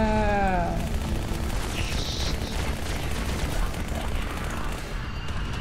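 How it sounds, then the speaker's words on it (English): Dual SMGs firing in the game Halo: Spartan Strike, a dense, rapid stream of shots lasting several seconds under game effects, with a voice speaking briefly at the start. "Good old double SMG! A classic."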